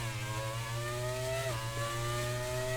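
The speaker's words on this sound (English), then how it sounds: "put V10s back in, and make them sound like this." High-revving V10 Formula 1 car engine in the F1 2019 racing game, a steady sustained scream with a brief dip as it shifts gear mid-way, loud and close with no talk over it.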